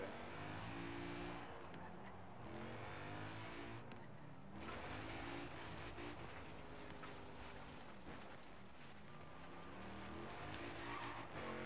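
A BMW drifts in a driving game, its engine revving and tires skidding in long, wavering squeals that rise and fall continuously, with a steady hum of motor underneath.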